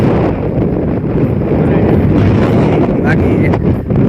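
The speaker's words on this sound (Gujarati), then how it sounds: "અત્યારે પવનનું કામકાજ વધી ગયું છે અને આપણે આમ જવામાં પવન સામો આવે છે એટલે ધક્કો મારે છે ફૂલ." Strong wind buffets the microphone at a seashore near Katpar, Mahuva, a loud steady roar with gusts that stays broadband and dense throughout, with no voices heard.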